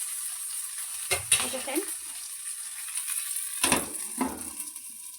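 Uttapam dosa batter frying in oil in a covered kadai gives a steady high sizzle throughout, broken by a couple of louder clattering bursts, while a voice speaks briefly.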